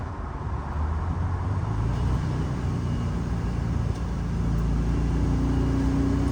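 VW Beetle on the road, a steady broadband rush of wind noise over a low engine drone, constant and close with a gradual rise in level.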